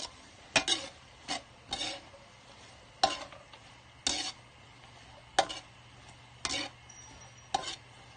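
Pancit canton noodles stirred in a large wok, with about ten sharp scraping and clanking strokes in an irregular rhythm over a low, quiet sizzle in between.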